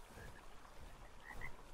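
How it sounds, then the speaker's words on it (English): Frogs croaking in a swamp in the survival game Ark Survival Evolved, a faint chorus of repeated low croaks with a few higher chirps, distant and quiet, with no voices. "I hear frogs all over."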